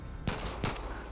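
Two quick, sharp gunshots about a third of a second apart crack out in the shooter game Far Cry 5, set over a steady background hum.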